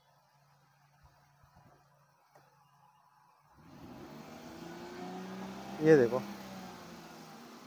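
A car emitting white smoke with a chemical smell, its engine idling quietly and then revved into a louder steady hum with a brief surge, while someone speaks briefly at the start.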